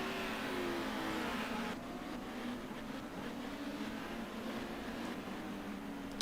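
Honda touring cars race at the Jarama circuit in Spain, a continuous loud engine roar with tonal revving and gear changes, engines shifting pitch as cars pass, with no commentary audible.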